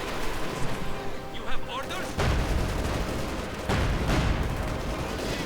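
Soviet rocket artillery fire in the Company of Heroes 2 strategy game, a dense, sustained barrage of blasts with two heavy impacts landing partway through, under a faint chirping at the start.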